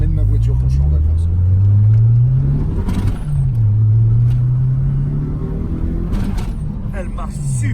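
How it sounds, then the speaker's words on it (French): A Peugeot 205 GTI fitted with a 300 hp engine accelerates hard, its deep engine note rising steadily and dipping briefly at a shift before climbing again, loud and close throughout. "c'est une 205 GTI avec un moteur 300 chevaux"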